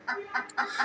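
A backyard chicken clucking close by, three or four short bursts of clucks in quick succession, with no talking.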